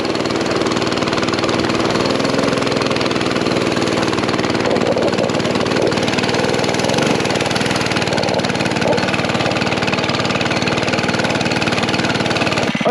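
A mini bike engine runs continuously and loudly close by as it tows a sled uphill at night, its steady mid-pitched drone holding for the whole stretch with no talk over it.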